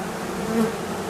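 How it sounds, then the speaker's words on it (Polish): Steady, close buzzing of honeybees at a hive, a dense humming drone with no talking. "nosi pszczoła w nastroju roboczym"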